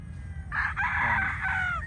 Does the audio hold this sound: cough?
no